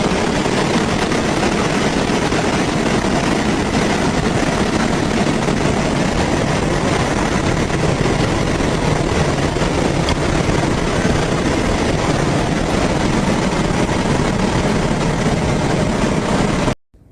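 A camera drone hovers and flies over an alligator-filled swamp, a steady loud whirring buzz of spinning rotors running unbroken for the whole stretch, close to the microphone, with no talking.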